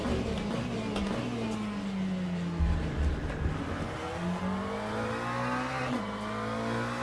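Racing engine of a McLaren race car lapping Fuji in the iRacing simulator, a loud sustained drone with steady pitch rising and falling through gear changes and brief lower rumbles, continuous with no talk.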